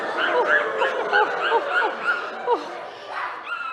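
A human voice imitates a dog, giving a quick series of yipping, barking calls and whimpers, close and fairly loud, repeating steadily for a few seconds.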